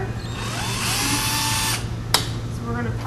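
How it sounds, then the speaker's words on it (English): A handheld power drill whirs while backing screws out of a bar stool, one long steady run that winds down and then a short second burst, with a person talking over the work. "If you have a power drill, you can use that."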